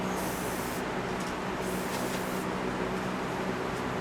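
Aerosol spray hisses continuously into rusted pockets on a saw blade assembly, a close, steady spray with no pauses.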